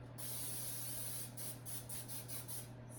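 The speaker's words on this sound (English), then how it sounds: "Spraying some Pam in there," Pam cooking spray hisses into a cake pan in a series of short, quick bursts, fairly close but soft, over a low steady hum in a quiet kitchen.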